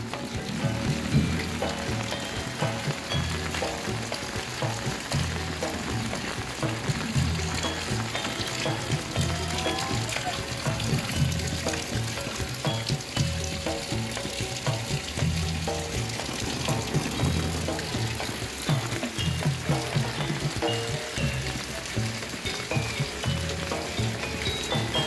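Rain pours steadily outdoors where people play barongan, a constant hiss of drops on surfaces with a repeating low rhythmic thump underneath.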